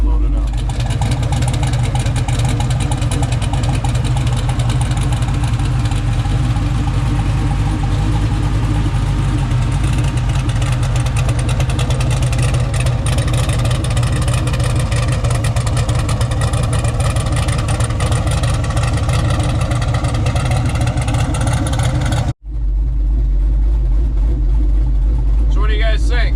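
A turbocharged Ford Dentside truck idles at 11 psi boost with a choppy cam tune, a loud, close, throbbing low rumble that holds for about twenty seconds, cuts out briefly, then returns with a deeper tone.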